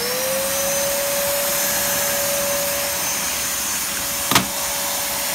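A 2002 Numatic NNV200 vacuum cleaner runs steadily with a droning motor and airy hiss, one brief bump partway through.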